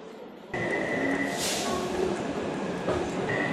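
A Taipei metro train runs at a station in a steady, loud rumble. A bright tone sustains above it, with a brief hiss partway through and faint voices in the background.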